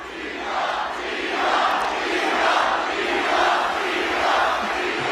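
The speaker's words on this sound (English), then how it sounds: "Listen to who the crowd was chanting about during the Trump rally the weekend before the election." A large crowd at a Trump rally at Madison Square Garden chants in unison, a loud, dense, rhythmic roar that swells in repeated waves and fills an arena.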